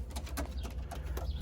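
A racing pigeon at a young-bird race loft after a 200-mile race from Fresno, California, with soft cooing and bird calls over a constant low rumble of background noise.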